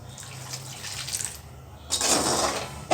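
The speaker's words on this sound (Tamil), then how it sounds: "இப்போது இன்னும் கொஞ்சம் போல் தண்ணி சேர்த்துட்டு" Water pours steadily into a cooking pan of dried fish relish, a soft trickle swelling into a louder, splashing rush near the end.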